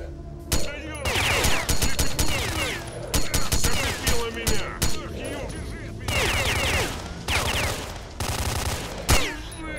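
Automatic gunfire in STALKER: Shadow of Chernobyl, loud close bursts of rapid shots with short gaps, layered with chaotic game noise and someone talking over the shooting.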